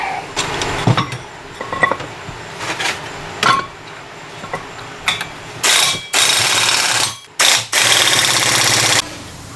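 Bolts on Big Foot AKC-E4502 leveling jack feet are tightened with a ratchet, heard first as scattered clicks and taps, then as loud, close, extended rapid ratcheting bursts with short pauses between them.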